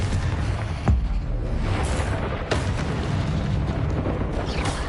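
Confringo explosive spell blast in the Hogwarts Legacy video game: dense, loud combat din with a sharp boom near the start and another burst midway over constant rumbling.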